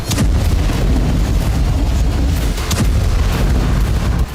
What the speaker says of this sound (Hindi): पहले भीषण गोलीबारी हुई, फिर इमारत को उड़ा दिया गया।